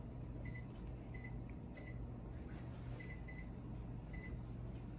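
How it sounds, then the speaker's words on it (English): Kitchen timer being set to 10 minutes while making soft pretzels, giving a series of short, fairly clear beeps at irregular intervals over a steady low background hum. "So right now, my timer is being set for 10 minutes."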